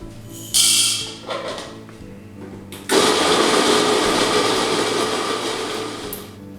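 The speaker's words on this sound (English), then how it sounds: "We'll go ahead and grind this on a medium to fine grind." A coffee grinder grinds beans to a medium-to-fine setting for a V60 pour-over: a short burst of whirring, then a sustained loud, even grinding roar lasting several seconds before cutting off.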